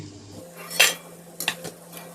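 Fried chickpea and potato snack being lifted from the pan into a bowl: a few clinks of a metal utensil against the dish, one sharp scrape near the start and a quick pair of taps later, close and fairly quiet.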